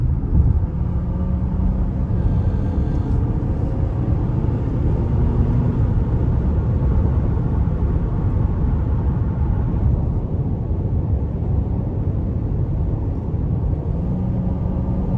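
A 2022 Nissan Pathfinder Platinum accelerating onto an interstate, a steady low engine and road rumble heard from inside the cabin, loud and continuous with little change.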